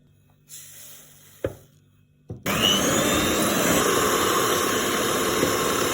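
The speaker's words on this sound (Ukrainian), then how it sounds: "на середній обертах збиваємо у пишну стійку масу світло кремового кольору" An electric hand mixer starts with a couple of clicks and then runs steadily at medium speed, whipping eggs and sugar into a thick, pale foam, with a continuous close whirring hum.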